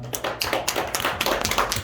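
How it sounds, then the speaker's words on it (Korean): A congregation claps at a Sunday church service, a dense run of quick, uneven hand claps continuing at a steady loudness. "박수하겠습니다."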